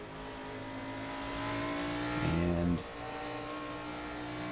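A NASCAR race car engine at Road America in a video game, droning steadily with a brief surge in pitch as it revs through a corner, one word spoken over it.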